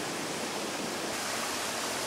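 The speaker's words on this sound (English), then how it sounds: "Small streams and waterfalls featured all over the national park." Waterfalls and small streams rush in a rainy national park in Honduras, a dense, steady roar of falling water that stays constant and fairly close with no voices.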